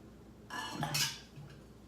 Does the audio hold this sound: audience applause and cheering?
no